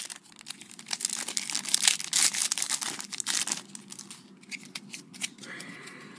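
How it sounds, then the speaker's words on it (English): Panini FIFA 365 2017 sticker packets being torn open by hand, a run of crisp crinkling rips and rustles of foil wrapper, close and fairly loud. "Packets are not easy to open. They're ripping up."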